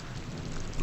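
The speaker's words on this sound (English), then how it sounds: "And it's raining." Rain and thunder ambience in a WWII strategy game gives a brief, quiet wash of steady rainfall with a low rumbling undertone, heard alone without talk.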